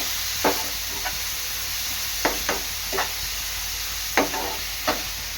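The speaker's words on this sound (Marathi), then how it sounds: "कांदा टोमॅटो चांगला एकजीव करून शिजून घ्यायचं आहे" Onion and tomato cooking in a pan, a steady sizzle and hiss underneath several scattered scrapes and knocks as the mixture is stirred.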